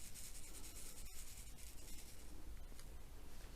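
A diamond painting tray of resin drills from Yellow Dog Designs is shaken, giving a continuous dense rattling and rubbing hiss of many tiny pieces, close and fairly quiet.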